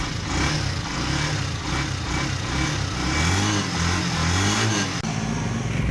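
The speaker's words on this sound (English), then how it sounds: "motorized vehicle is designed as a do-it-all errand runner tricycle." A motorized errand-runner tricycle's engine hums and idles steadily, up close and fairly loud, with its pitch wavering and rising slightly toward the end, and no voices over it.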